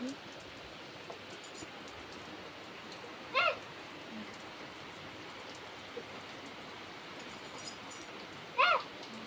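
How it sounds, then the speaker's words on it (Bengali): Steady, soft hiss of rain falling throughout, with a couple of brief bird chirps standing out near the middle and end. "দেখো বন্ধুরা বৃষ্টি হচ্ছে"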